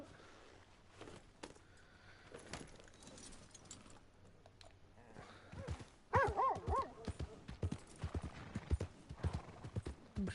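Horse hooves clip-clop in a quick, steady rhythm in Red Dead Redemption 2, joined by a whinny and snorting, with faint game ambience behind.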